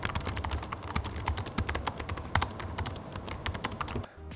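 Fingers type quickly and continuously on the keyboard of an HP Zhan X laptop with a Ryzen 6600U processor. The keys give soft, close clicks in a steady stream, then the typing stops just before the end.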